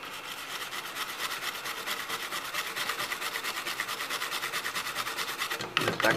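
Steady, even rubbing strokes over a freshly reworked chip on an HP G42 laptop board, cleaned by hand after hot-air rework; the scrubbing is close and continuous for about six seconds, with a brief clunk near the end and no talking.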